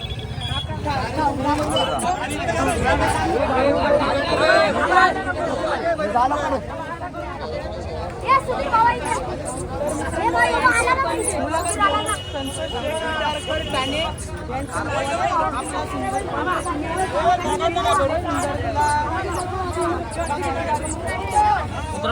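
A crowd celebrates a bullock cart race win outdoors with a loud, continuous babble of excited voices and shouts that rises and falls throughout, with people talking close by.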